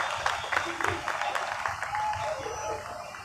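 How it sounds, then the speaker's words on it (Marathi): Audience applause at a school felicitation for a high school student at a Dr. Babasaheb Ambedkar birth anniversary event, steady dense clapping from a crowd with a voice briefly audible over it. "जोरदार टाळ्यांचा गजर आपण अंकितासाठी करू."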